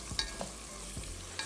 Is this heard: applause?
no